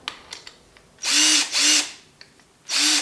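A power drill whirs in three short, loud bursts close by while used with a case trimmer on brass cases, with faint clicks and handling noises in the pauses between.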